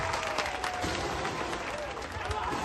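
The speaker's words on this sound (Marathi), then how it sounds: "जोरदार टाळ्या." Crowd applause at a Dahi Handi festival in Sukapur, Panvel, 2024: a dense, steady wash of clapping and crowd noise fills the whole stretch, with talk running over it.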